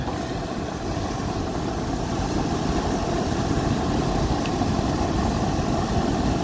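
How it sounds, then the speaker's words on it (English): A Dometic Penguin 15k RV rooftop air conditioner compressor running, a steady loud mechanical drone and hum with airflow noise, continuous and unbroken throughout. "Let's see where our compressor's at"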